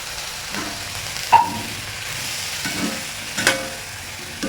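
Chopped chillies for a chilli thoran fry in a pan with a low, steady sizzle, broken by a few sharp scraping stirs spaced several seconds apart.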